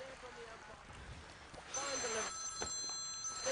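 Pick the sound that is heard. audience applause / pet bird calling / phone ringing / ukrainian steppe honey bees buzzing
phone ringing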